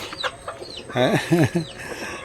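Two or three backyard chickens cluck in short, uneven bursts close by, with a person speaking softly between the calls.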